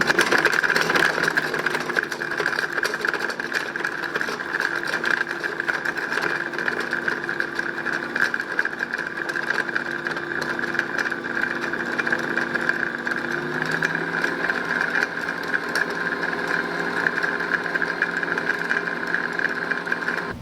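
An electric mixer whips lard with salt for tamales, giving a steady motor whir that holds a constant pitch, dips slightly partway through and then carries on.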